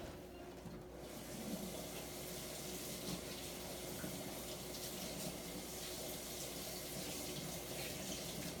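Warm water runs steadily from a sink tap while a leather folio is rinsed, a continuous close splashing rush with no pauses for the full length.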